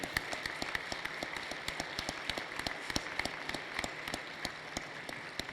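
An audience at a business chamber's annual assembly applauds, a dense patter of many hands clapping at moderate distance, steady throughout without cheers or voices.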